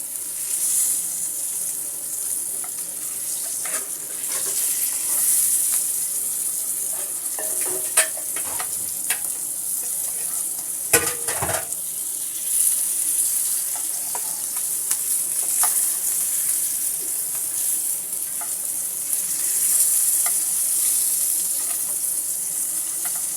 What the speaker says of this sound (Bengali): ইলিশ মাছগুলোকে আমি সুন্দর করে লাল লাল করে ভেজে নিচ্ছি